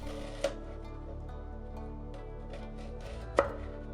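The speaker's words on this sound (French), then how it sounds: "Détailler en 4 tranches le morceau de gingembre" A knife cuts through a piece of ginger on a board in two sharp, separate chops about three seconds apart, with a low steady hum between them.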